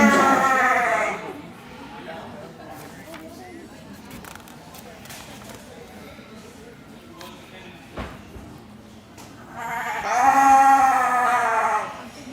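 Hair sheep at a livestock stock show, with harmonic bleats and moos loud at the start and again near the end, a crowd murmuring and talking in the barn between the calls.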